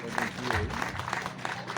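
Audience clapping at an awards ceremony in Uttarakhand for Miss Uttarakhand 2024, a brief burst of crowd applause with a loud voice speaking over it throughout.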